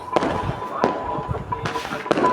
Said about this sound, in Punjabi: ਸੋ ਲੋ ਜੀ ਪਟਾਕਿਆਂ ਦੀ ਕਰਤੀ ਆਪਾਂ ਸ਼ੁਰੂਆਤ